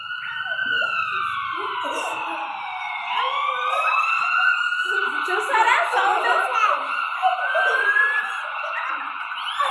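A loud wailing emergency siren sweeps up and down continuously, close by, while a person talks and chuckles underneath.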